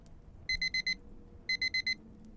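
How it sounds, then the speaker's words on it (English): A phone alarm rings at 5 a.m., two quick bursts of four sharp electronic beeps each, loud and close over a low room hum, with no talking. "It was Jack's alarm on his phone"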